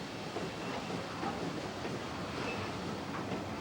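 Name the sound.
steam-hauled train running on heritage railway line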